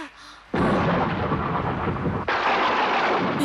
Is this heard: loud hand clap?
no